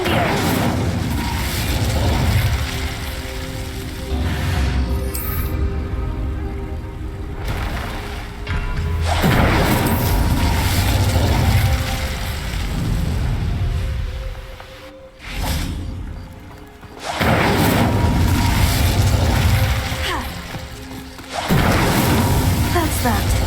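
A fire spell goes off with booming, whooshing bursts in Hogwarts Legacy, several loud blasts and crashes spread across the stretch with brief lulls between them, while a voice speaks over the action.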